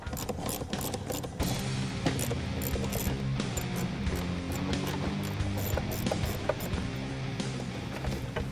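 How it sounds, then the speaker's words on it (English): A ratchet removes the four bolts holding the shift bucket to the transmission tunnel of a 1969-1973 Mustang, giving dense repeated clicking and clacking throughout, fairly close and steady, with no talk. "Now we're going to move the 4 bolts that hold the shift bucket to the transmission tunnel."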